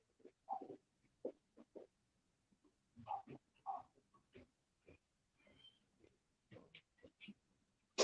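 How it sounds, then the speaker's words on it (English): A dog at a home garage workshop gives a series of short, fairly close barks and whimpers in irregular bursts separated by quiet gaps. "I'm gonna go let that dog in."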